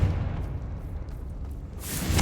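A Confringo fire spell explodes in the Hogwarts Legacy video game, a dull rumbling boom with a low, heavy body that swells again near the end, heard alone without talk.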